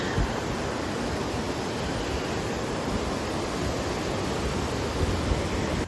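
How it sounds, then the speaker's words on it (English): A small waterfall flows along a park path in Dublin, Ohio, giving a steady, full broadband rush of falling water that holds constant throughout, close and with no voices. "So that right there is the big pretty waterfall, but this is still nice."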